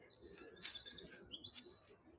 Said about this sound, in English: Robins are one of the few birds that sing really right the way through the year